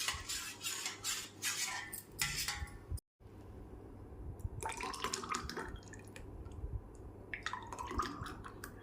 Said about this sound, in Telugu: దీనిలో పోసుకొని ఇలా కలుపుకోవడమే.